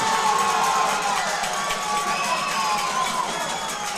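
Spectators at a high school basketball game react to a referee's call with a loud, continuous crowd roar of mixed shouting and jeering that stays steady throughout.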